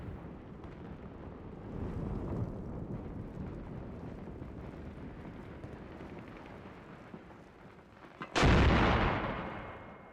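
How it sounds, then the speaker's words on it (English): Artillery bombardment in the war game Armored Brigade II, heard as a long low rumble of distant shelling that ends in one sharp, loud blast near the end, which then fades slowly. "Just some preliminary bombardments going here."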